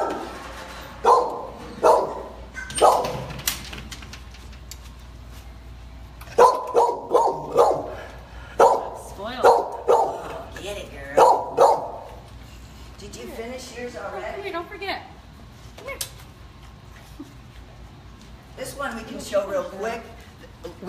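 A dog named Ladybug barks in loud bursts while playing with a donated Kong tire enrichment toy in a kennel, clustered barks followed by quieter yips and whimpers, with other kennel noise in the background.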